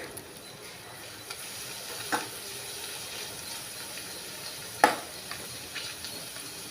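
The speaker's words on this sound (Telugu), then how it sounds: "ఉల్లిపాయ ముక్కలు బాగా వేగాలి" Chopped onion pieces fry gently in a pan with a soft, continuous sizzle, broken by a few faint clicks and scrapes of stirring.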